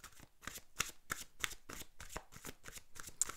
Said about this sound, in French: on va tirer une autre carte pour ce mois de janvier.